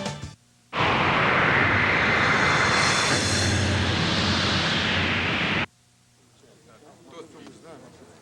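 MiG-29 fighter jets of the Soviet Air Force Swifts aerobatic team roar past in flight, a loud broadband jet rush that rises abruptly, swells, then cuts off, followed by quieter background and faint voices.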